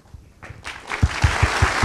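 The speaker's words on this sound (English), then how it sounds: "Big round of applause." Conference audience breaks into applause for the keynote speakers at a closing session, swelling quickly from quiet into dense clapping with a few heavy thumps, cut off after under two seconds.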